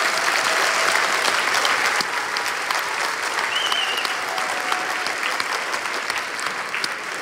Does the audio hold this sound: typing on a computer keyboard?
no